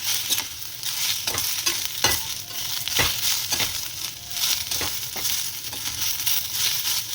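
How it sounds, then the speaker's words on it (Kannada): Onion, tomato and chopped coriander frying in a pan for a curry base, with steady close sizzling and repeated scraping stirs of a spoon against the pan, no voices. "ಹುರ್ಗಡ್ಡೆ ಎಲ್ಲ ಫ್ರೈ ಆದಮೇಲೆ ಒಂದು ಟೊಮೆಟೊ ಹಾಕೋಣ"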